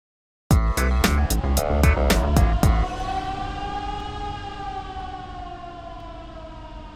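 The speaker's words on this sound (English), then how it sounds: "When you hear this siren, don't panic." A rapid run of about eight sharp, ringing strikes gives way to a long, sustained, wavering evacuation siren tone that slowly fades.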